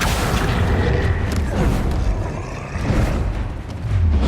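A Confringo blasting spell goes off in Hogwarts Legacy, a loud, dense roar of booming blasts that rumbles on without a break, heavy in the low end throughout.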